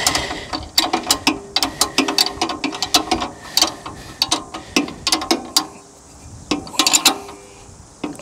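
Tightening the top nuts on a Turbosawmill portable sawmill gives a rapid, close-up series of sharp ratchet clicks in quick bursts with brief pauses, loud and with no voices.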